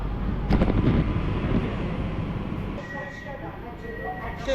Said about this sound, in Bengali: তাহলে আমাদের ট্রেন এসে পৌঁছালো খর্দা